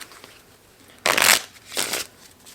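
A deck of playing cards is shuffled in two quick riffling bursts, the first louder and longer, the second softer, close up against a quiet room with no talking.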